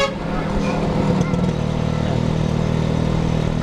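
A Kawasaki two-stroke motorcycle engine runs steadily and close by, a continuous buzzing drone with rattly texture throughout.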